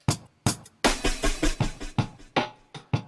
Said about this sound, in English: I put a bunch of choruses on and echoes, delays on a snare drum